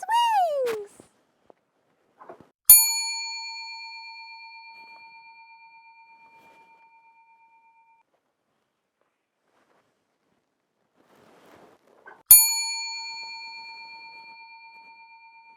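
A bell strikes twice, the rings about ten seconds apart, each a bright clang with a long ringing decay into silence, preceded by a brief high sweeping tone.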